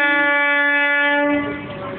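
A train horn blasts loud and close, one sustained chord-like tone held for over a second before cutting off into fading rail noise.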